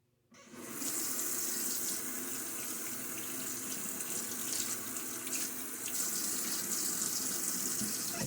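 Tap water runs steadily from a faucet while a shaving soap tub is rinsed under it, a continuous close hiss of splashing flow that starts abruptly and holds constant throughout.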